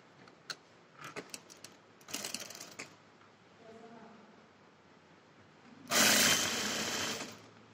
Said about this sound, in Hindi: बॉटम के साइड से इसको स्टिच करेंगे